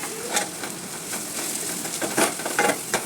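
Coriander, chilli and turmeric masala fries in a pan with a steady sizzle, broken by scrapes and clinks as it is stirred, close and fairly loud with no talking.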